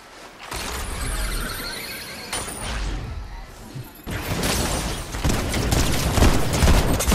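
Gunfire rattles in Fortnite. Noisy bursts of shots and mechanical clatter swell and continue, with a sharper, denser flurry in the second half. A voice is faintly present in the mix.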